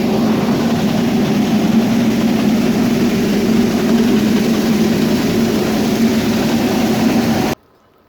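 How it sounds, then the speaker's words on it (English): A grain auger runs steadily while filling a farm wagon, a loud continuous low mechanical drone with a grinding hum that holds for several seconds and then cuts off abruptly, no talking. "I'm going to have to clean up under the wagon though, because the auger's kind of throwing it around."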